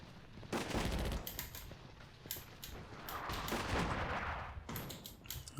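Repeated bursts of gunfire in the video game Attack at Dawn: North Africa, depicting the Operation Crusader battle, crackle in rapid volleys that overlap into a sustained fusillade with sharp individual shots, loud and without talk.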